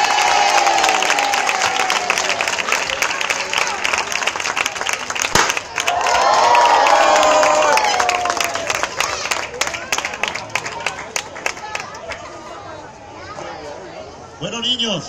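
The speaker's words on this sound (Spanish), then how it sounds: "Y el fuerte aplauso para Bayona!" An audience at a children's festival in Seville claps and cheers for the children in a sustained burst of applause, with crowd chatter and a voice on a microphone talking over it.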